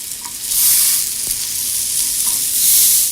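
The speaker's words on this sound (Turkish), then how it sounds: "Sucuklarım bir taraftan pişiyor." Sucuk sausage sizzles steadily in a non-stick pan, a loud, continuous hiss of frying fat that holds for the whole stretch with no voices over it.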